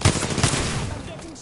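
Rapid bursts of video-game gunfire aimed at the player, a loud clattering volley at the start that trails off over about a second and a half.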